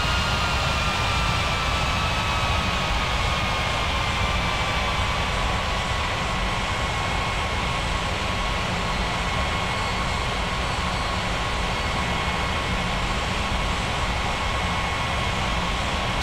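An airliner takes off from a runway in the Unmatched Air Traffic Control simulator game, heard as a steady loud jet roar with a slowly falling whine that runs unbroken through the whole stretch.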